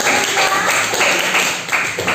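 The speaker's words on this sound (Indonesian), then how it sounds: "tepuk tangan untuk kelompok" Children in a classroom clap for the student group Khadijah, a loud, close burst of scattered applause with a few sharper taps standing out over about two seconds.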